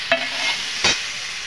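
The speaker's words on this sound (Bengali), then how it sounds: "এটা নাড়াচাড়া করে ভেজে নেব।" Mustard flower paste with cumin, coriander, ginger paste, turmeric and salt is stirred as it fries in a pan, giving two short scraping strokes over a steady soft sizzle.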